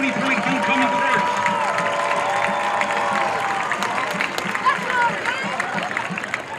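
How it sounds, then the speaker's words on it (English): Stadium crowd at a Vista Ridge vs. Stony Point high school football game applauding the 2022 homecoming court, a continuous wash of clapping and cheering with murmuring voices mixed in, steady and moderately loud. "Let's give a huge round of applause for the 2022 Stony Point Homecoming Courts."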